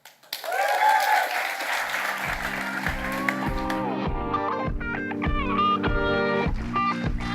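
Audience at a startup demo day applauding presenters, a dense burst of clapping that swells quickly and then continues steadily while music with a regular beat comes in underneath.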